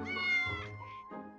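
A cat meows loudly and close, a drawn-out wavering cry followed by a shorter second mew, with no other sounds around it.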